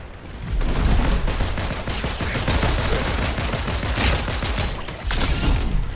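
Dense, loud automatic gunfire from the Fortnite video game rattles almost nonstop for six seconds, rapid bursts overlapping with no gaps and no voices.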